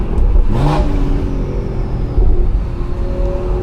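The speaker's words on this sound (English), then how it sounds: "Listen to that turbo" A turbocharged BMW B58 engine revs hard with a whirring, rising turbo whine over a deep rumble, loud and close, surging once before settling into a steady drone.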